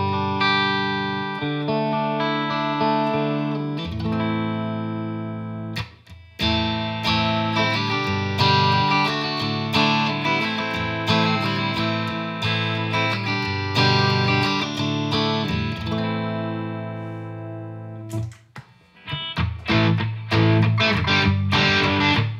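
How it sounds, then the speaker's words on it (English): An electric guitar played through an amp and cab model with reverb, running into a Line 6 PowerCab Plus, rings out in sustained chords and riffs, loud and full, with no talking. "we just have some reverb, an amp, and a cab, and it sounds like this."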